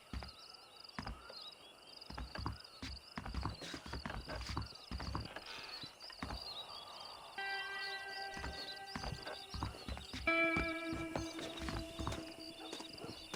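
Several horses clip-clop close by in the Western video game Red Dead Redemption, their steady hoofbeats overlapping over ambient tones, with a snort or whinny and a low game music bed joining later.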